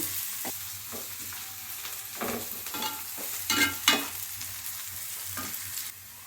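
Spice paste for a gulibindhalu curry fries in a pan, a soft, fairly faint sizzle broken by repeated scraping stir strokes of a spoon, with no talking.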